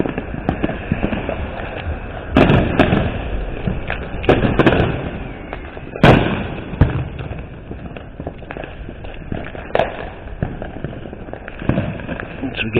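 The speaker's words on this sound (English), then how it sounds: "people shooting off fireworks" Fireworks pop and crack in a city street on the Fourth of July, heard from a bicycle, with several sharp bursts over steady road and wind noise and someone talking now and then.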